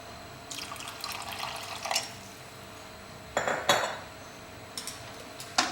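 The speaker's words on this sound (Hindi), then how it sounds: "हल्का सा पानी का प्रयोग मैं और कर रहा हूँ इसमें।" Water splashes into a metal pot of mutton curry amid clinking and scraping of utensils, with a couple of louder bursts of pouring and clatter.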